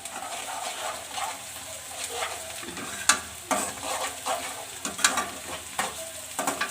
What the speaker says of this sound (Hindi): प्याज को बिल्कुल धीमी आंच पे अच्छे से फ्राई करेंगे